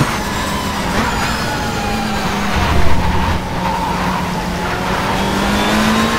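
Race car engine accelerating in World Touring Car Champ 07 at Curitiba: a loud, steady roar with rising revs and gear changes, other cars audible around it, close and continuous.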